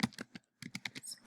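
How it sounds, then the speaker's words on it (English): Rapid typing on a computer keyboard, a quick burst of close, crisp key clicks with a short pause partway through, no talking. "So if I want to just type something, I would use this."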